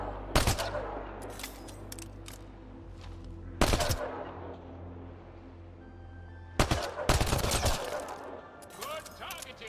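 Gunfire from the video game Mass Effect Andromeda comes in three loud bursts of rapid shots, separated by quieter stretches of game ambience with a voice now and then.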